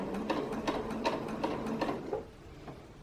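Sewing machine stitching bias tape facing, giving a short series of soft, evenly spaced mechanical thumps, fairly quiet and close, fading out after a few seconds.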